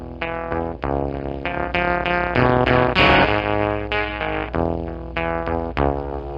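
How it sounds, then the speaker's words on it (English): An electric guitar plays a string of chords through an engine fuzz pedal set to low gain, giving a grainy, crackly, static-like distortion with strong sustained notes and short breaks between strums. "if you start backing off of the roar and you start giving it less gain, it starts to turn into like a really weird, almost FM transmitter, grainy, kind of just weird,"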